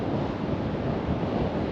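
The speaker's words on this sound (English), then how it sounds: "Wow, it is windy here on the beach at Cannon Rocks." Strong wind buffets the microphone on the beach at Cannon Rocks, with a continuous roar of surf and blowing sand beneath it and no voices.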